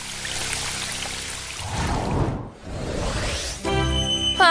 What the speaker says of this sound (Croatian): Tuš stvarno radi.